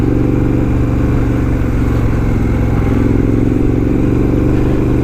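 A 2019 Triumph Scrambler motorcycle ridden on dirt, its engine loud and close with a steady, rough drone and clattering mechanical noise throughout, no voices.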